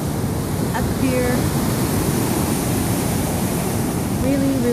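Giant ocean waves surge at a pier on a beach, making a loud, steady, broadband roar that fills the whole stretch with no distinct breaks, blended with wind rush.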